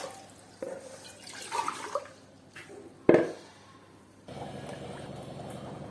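Water poured from a small box into rice flour for jantikalu dough, a few short splashing pours and trickles at close range, with a louder splash midway and a steadier trickle toward the end.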